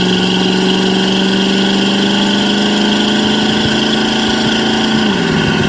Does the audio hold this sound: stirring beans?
no